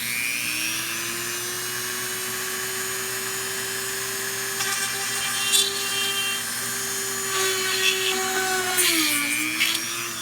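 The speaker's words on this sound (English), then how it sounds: "I'm going to drill a hole into another tie here." An electric drill boring a hole into a wooden tie for a swing gate, a steady high whine held for several seconds with rising grinding bursts as the bit bites into the wood, then slowing toward the end.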